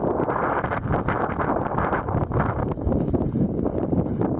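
Wind blowing across the exposed, drought-dry shrubland of the Mount Irish Range, a steady low rumbling buffet against the microphone with gusty surges, continuous and fairly loud throughout.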